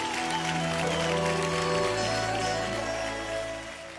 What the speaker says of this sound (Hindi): एक बार जोरदार ताली आ जाए